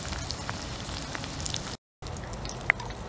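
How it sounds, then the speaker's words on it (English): Faint, steady crackling and sizzling of chorizo frying in a pan, with a brief silent gap partway through. "It's starting to sizzle a tiny little bit"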